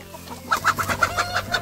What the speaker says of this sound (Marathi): कोंबड्या घाबरतात.